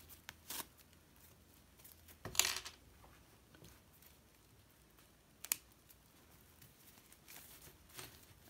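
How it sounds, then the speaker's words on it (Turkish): Scissors snip sewing thread in a quiet room, producing a few faint, sharp clicks spread out over several seconds. "Gizledikten sonra yine iki kat arasına ipi çekerek keseceğim"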